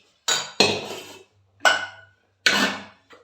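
Metal dishes, pots and pans clatter as they are stacked away in a home kitchen: four separate bursts of clinking and scraping, close and fairly loud, with short pauses between them and no talk.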